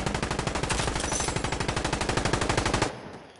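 Sustained automatic gunfire from Insurgency: Sandstorm, a rapid, even stream of loud close shots lasting nearly three seconds that cuts off abruptly into quiet.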